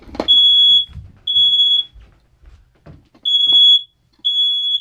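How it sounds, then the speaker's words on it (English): A smoke alarm gives four loud, piercing electronic beeps in an even rhythm, each about half a second long, close by in a quiet room with faint thumps between them. "Gonna take a bat to the smoke alarm."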